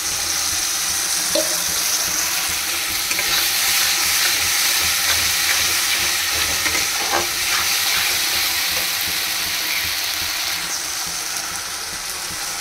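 Spice paste and kasuri methi sizzle steadily in a hot pan while being stirred for a chicken dish, a dense continuous frying hiss with faint scraping of the spoon throughout.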